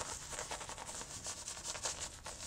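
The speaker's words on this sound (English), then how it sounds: "you get a little bit of brush foam up there and you're good to start lathering up" Shaving brush swirling and lathering shaving foam on a face, a soft, steady wet rubbing with quick repeated strokes, close and fairly quiet, no talking.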